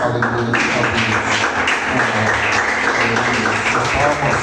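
A church congregation claps to praise God, a continuous loud wash of applause throughout, with voices mixed in beneath it.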